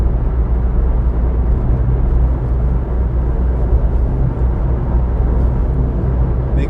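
Car accelerating on a UK motorway, heard from inside as a steady, loud broadband road and engine roar with heavy low rumble that holds constant throughout, no voices.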